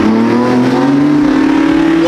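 Lamborghini Huracan STO and Porsche 911 GT2 RS running side by side in a rolling race, engines droning loud and close with a steadily rising pitch as they accelerate.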